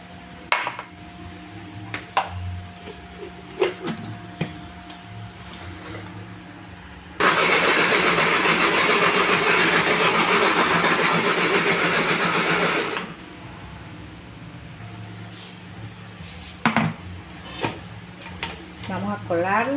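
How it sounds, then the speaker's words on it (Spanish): A blender purees passion fruit with sugar for homemade yogurt, a loud steady whirring roar lasting about six seconds between stretches of quieter kitchen clatter and talking. "Entonces la voy a licuar y le echamos de una vez el azúcar, como hacer un jugo."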